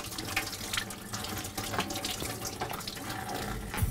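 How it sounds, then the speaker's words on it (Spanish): Salted eggplant slices rinsed under a running kitchen tap, water splashing steadily and fairly loud throughout, with brief clatters as the slices are moved. "ahora hay que enjuagarlas muy bien para quitarles ese exceso de sal."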